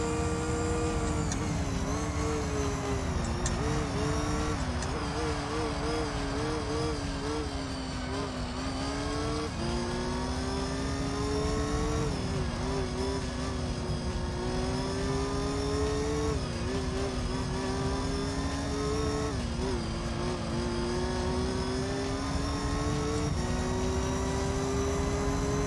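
A rally car's engine in Gran Turismo 3 sits on the rev limiter, a loud continuous buzzing drone that stutters and dips in pitch every few seconds, with no voices over it.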